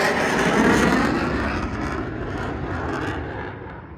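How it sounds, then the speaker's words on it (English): U.S. Air Force Thunderbirds jet at full afterburner during an air show, a loud broad roar that rises and slowly fades as it passes, heard alone. "you can see that's full afterburner there"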